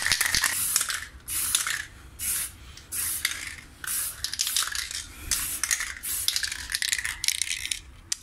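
Repeated bursts of a spray paint can hissing onto car brake drums and calipers, each lasting about half a second to a second, separated by brief pauses and faint rattling.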